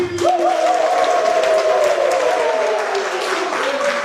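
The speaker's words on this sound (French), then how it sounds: "On applaudit." A crowd at a PPACI party youth rally claps steadily, with sustained voices or cheering ringing over the continuous applause throughout.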